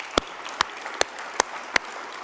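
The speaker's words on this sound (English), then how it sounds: "Would you please give all of our supporters a round of applause?" Five sparse, sharp claps spaced about half a second apart, fairly faint over a quiet room, from an audience asked to applaud supporters at a museum event.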